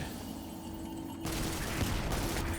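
The tractor cannon in the video game Destiny 2 fires, giving a sudden loud blast that jumps up partway through and then rumbles on under the game's background din.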